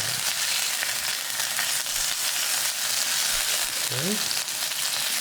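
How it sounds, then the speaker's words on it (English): Beef slices fry in oil in a pan and are stirred, a loud steady sizzling hiss with faint scraping, and a voice briefly speaks once near the end. "Now we can put in the beef. We're using beef slices, so now we can stir."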